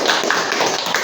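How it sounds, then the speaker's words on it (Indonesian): A group applauds at a community podcast event in Kecapi. Dense, steady hand clapping fills the full second, loud and close. "Tepuk tangan dulu buat Pak Har."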